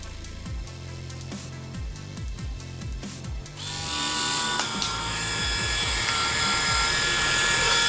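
A power screwdriver drives screws back into an Oster Volt lithium-ion hair clipper, short bursts of whirring followed by a steady, louder high-pitched motor whine that continues to the end.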